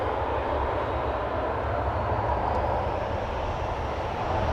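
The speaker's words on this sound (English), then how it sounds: "That is a Bombardier C-Series 100, aka A220." An ITA Airways Bombardier C-Series 100 (A220) jet departing Amsterdam Schiphol for Milan gives off a steady, loud broadband engine roar with a low rumble, constant throughout and with no voices.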